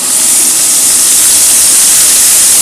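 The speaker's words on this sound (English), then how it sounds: "You hear that sizzle." Steak sizzling in hot oil in a pan, a loud, dense, continuous frying hiss close to the microphone with no speech.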